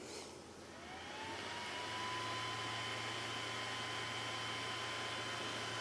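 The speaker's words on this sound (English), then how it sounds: "Looks like my fan's making a funny noise." Cooling fan on a Creality Ender 3 3D printer spins up after power-on, giving a steady whirring hum with a thin rising whine that settles into a constant tone, with no speech over it.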